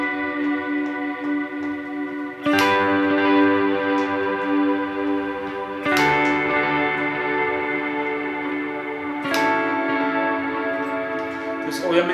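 Electric guitar on the neck pickup strums sustained triads through a long ambient effect, with three chord changes struck several seconds apart, each ringing on and washing into the next; no talk.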